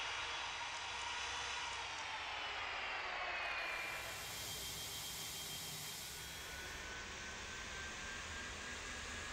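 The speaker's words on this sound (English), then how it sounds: "the shift from the idle engine sound to the takeoff engine sound" A jet airliner spools up for takeoff in Tower! Simulator 3 at a Maldives airport, a broad roaring whine that rises in pitch and intensity, then settles into a sustained rushing roar, with no talk.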